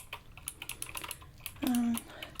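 Rapid, crisp clicks of typing on a computer keyboard tap along in an irregular rhythm up close during an ASMR ear-cleaning medical exam roleplay, interrupted briefly by a short voiced hum.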